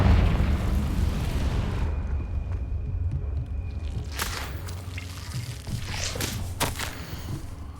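A Confringo fire spell explodes in the video game Hogwarts Legacy, a loud booming burst with crackling debris that spreads through the second half over a steady low rumble of game ambience.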